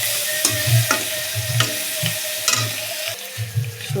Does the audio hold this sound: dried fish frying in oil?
yes